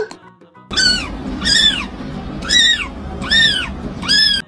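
A cat meows five times in an even, repeating rhythm, each call clear and fairly loud with short gaps between, over a faint low background.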